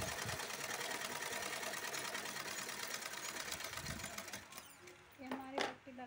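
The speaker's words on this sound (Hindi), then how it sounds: "हम इसको सिलाई करके पट्टी लगा दे रहे हैं बहुत सिंपल आसान तरीके से।" A sewing machine stitches a fabric strip onto cloth with a steady, fast, rattling whir that runs continuously for several seconds, then stops as a few quiet clicks and handling sounds follow.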